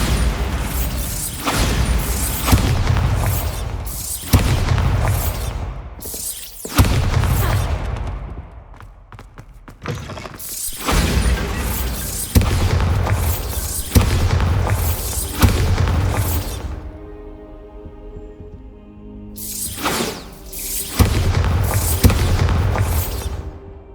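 Repeated heavy explosions from a bombardment in the Hogwarts Legacy video game, a loud series of booming blasts every second or two with brief quieter gaps between volleys.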